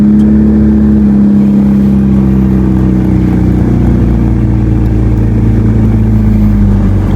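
A budget Honda Civic SiR build with a misfire runs loud and close, its engine holding a rough, steady rumble with slight rises in revs over several seconds.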